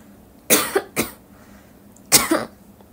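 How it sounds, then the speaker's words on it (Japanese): Three harsh coughs close to the mic, two in quick succession and then one more after a short pause. "咳が止まらなくなったので"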